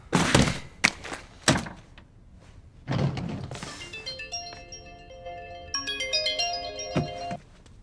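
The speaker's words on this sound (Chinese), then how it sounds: "估计是老 K 家里人来电话了" Several heavy thuds come first. Then a melodic phone ringtone starts and plays its tune of clear repeating notes, loud and close, with a few knocks mixed in.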